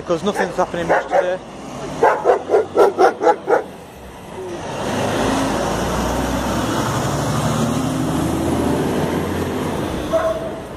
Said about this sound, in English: And that was a dog. Nearly bit my ass off.